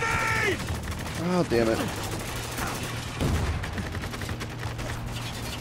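Turret gunfire in the war shooter Spec Ops: The Line rattles in dense, rapid bursts with heavy impacts, loud and sustained, while a voice briefly exclaims over the barrage.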